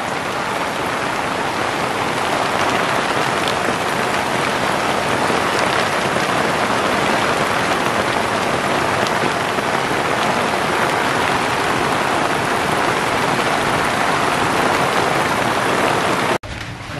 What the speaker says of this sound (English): We're soaking in wet because ayaw mag-stop ng rain.